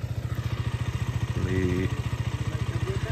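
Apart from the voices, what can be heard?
KTM motorcycle engine running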